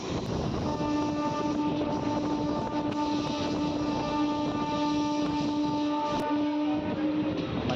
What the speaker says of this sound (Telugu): ట్రైన్ యొక్క ఫస్ట్ స్టాప్ అయిన మధురా నగర్కి మన ట్రైన్ చేరుకుంది